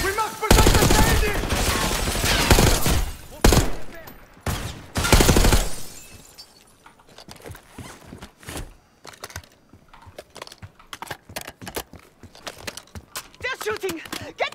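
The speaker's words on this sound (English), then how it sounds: "They're shooting! Get down!" Gunfire in the Call of Duty Black Ops 6 campaign: loud, dense bursts of shooting and shattering up front give way to scattered sharp shots and impacts, near and far, in a quieter stretch.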